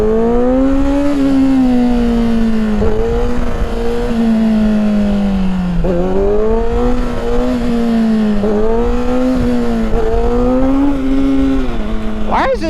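A 2019 Kawasaki ZX-6R sportbike is ridden hard, its engine revving loud and close in repeated rising and falling pulls through the gears, with wind rush underneath throughout.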